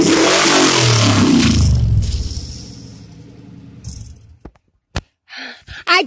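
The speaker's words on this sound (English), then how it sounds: "Come hold this phone right here while I rev it up." A 1973 Monte Carlo V8 revs loudly and close for the first two seconds, then winds down into a low idle rumble, with brief scattered knocks and clatter at the end.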